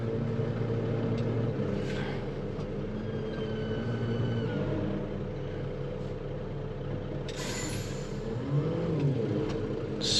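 Heavy machinery engine, likely a tractor working a field road near a parked motor grader, rumbling steadily and building slightly as it is put into drive, loud and close with no talk.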